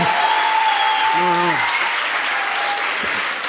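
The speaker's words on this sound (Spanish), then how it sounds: "Espera, espera, no aplaudáis." A television studio audience applauds steadily and loudly throughout, a dense continuous wash of clapping, while a voice briefly calls out over it.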